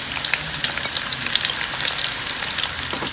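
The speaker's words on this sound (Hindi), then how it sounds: "अब इसमें हम प्याज डालते हैं ब्राउन होने के लिए।" Onions frying in hot oil until brown, a loud close sizzle with dense crackle and soft popping and no voices.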